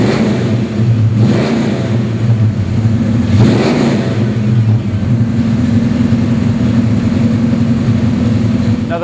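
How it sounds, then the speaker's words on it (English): A 1970 Ford Torino GT engine rumbles through its exhaust, revving up twice in quick swells before settling back to a deep, steady idle. Loud and close throughout, with no talking. "You can hear this exhaust. It sounds great."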